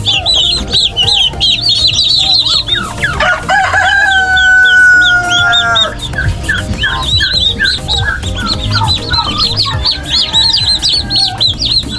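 Hens with chicks in a coop cluck and chirp continuously at close range, with a rooster crowing once in the middle over the constant peeping of chicks.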